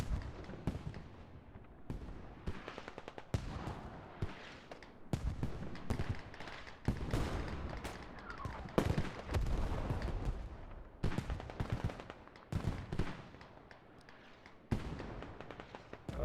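Mortar fire and explosions in a tactical shooter match of Squad, a dense run of sharp booms and cracks, some close and heavy, others farther off, with a commentator's voice faint underneath.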